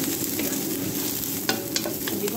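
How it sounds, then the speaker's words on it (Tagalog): Ginger and garlic hit a hot pan with browned onion, giving a close, steady sizzle with faint scraping stirs on top and no talking. "Lagay ko na yung ginger at saka garlic."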